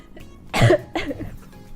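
A single person coughs twice, two short harsh bursts close to the mic against a quiet background.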